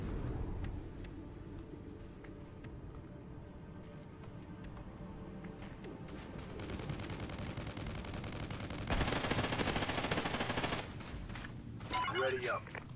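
Light machine gun fire crackles in Call of Duty Ghosts: rapid distant bursts build into a loud sustained volley around the middle, then a shorter burst near the end, with occasional talk underneath.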